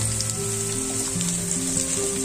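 Fish sizzles loudly in hot oil with chillies and garlic, a dense, continuous crackling fry heard close up and alone with no talk.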